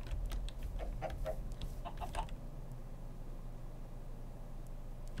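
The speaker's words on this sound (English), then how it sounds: "Chickens make these noises when they walk around." Minecraft chickens walking around in the video game make faint, soft clucking and light tapping footstep sounds in a few short clusters over the first two seconds, followed by a quiet steady hum.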